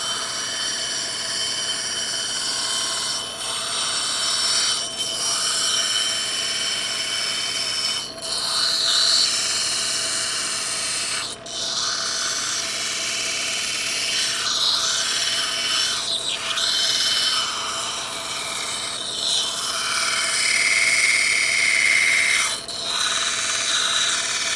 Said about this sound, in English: We're going to grind to that line.